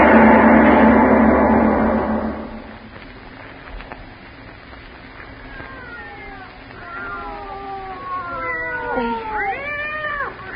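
Several cats yowl and wail in rising, overlapping cries in a 1943 old-time radio drama sound effect, growing more frantic toward the end, after a stretch of low murmuring background.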